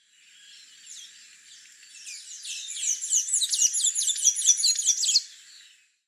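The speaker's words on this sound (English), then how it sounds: "Blue-gray tanager." Blue-gray tanager song: a fast, high, squeaky twittering phrase that starts thin and grows into a dense run of sharp chirps before stopping abruptly, clear against silence.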